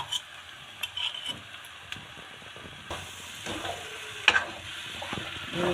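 Ginger and chillies drop into a pan of frying spices for white chole aloo, giving a soft, steady sizzle with light stirring scrapes and a few sharp crackles.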